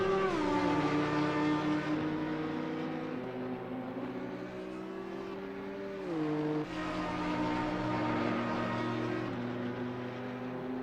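GT4 and M2 race cars, a BMW among them, race at Brands Hatch, with loud engine whines climbing through gears and dropping at shifts, one car up close and others layered behind.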